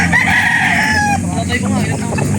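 Young rooster crowing at a rural livestock market in Laguna, one loud close crow rising and then trailing off over about a second, followed by a clucking tail amid background market noise.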